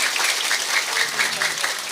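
An audience claps for the regent at a lively Indonesian gathering, a continuous dense patter of many hands, close and fairly loud, with voices faintly mixed in.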